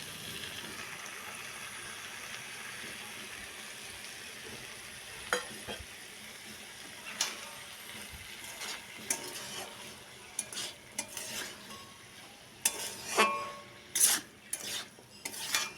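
Dhenki greens frying in a pan with mustard-poppy paste, cooked village-style: a steady soft sizzle under repeated scraping stirs, with utensil clinks growing busier and louder toward the end.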